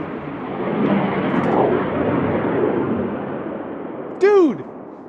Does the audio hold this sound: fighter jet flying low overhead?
yes